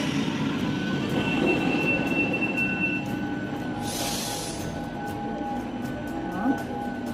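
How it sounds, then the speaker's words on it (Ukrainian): Graffiti-covered metro train on Rome's Line A rolling through the Termini station area, a steady close rumble with faint wheel squeal and a brief hiss partway through, no talking. "Ось такий вже розмальований потяг."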